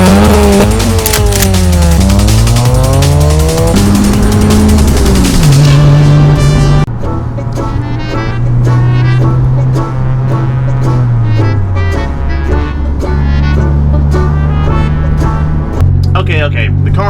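A 1998 Honda Civic DX engine revs loudly and climbs through gears, pitch rising and dropping with each shift, heard from inside the cabin with speech over it.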